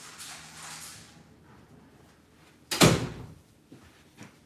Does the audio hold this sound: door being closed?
yes